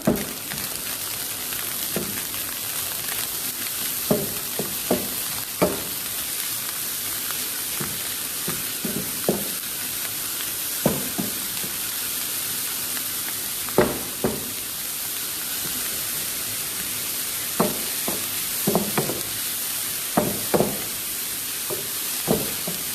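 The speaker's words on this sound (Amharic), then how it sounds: "መልሰን ከሽንኩርቱ ጋር በደንብ አድርገን እንጠብሰዋለን ስጋው።" Meat frying with onions in a pan gives a steady bright sizzle throughout, broken by repeated short scraping knocks of a spoon stirring every second or two.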